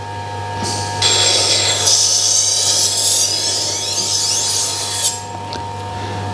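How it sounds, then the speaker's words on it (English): A Tormek T1 sharpener grinds a long knife with a steady, high whirring scrape over a constant motor hum, the blade drawn along in one direction. "And I just tend to sharpen in one direction. I'm not going backwards and forwards."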